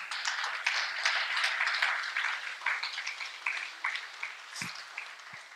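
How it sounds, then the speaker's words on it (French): A church congregation claps and cheers steadily, a dense wash of applause that slowly thins out, with a couple of low thumps near the end. "est-ce que tu peux acclamer le Seigneur?"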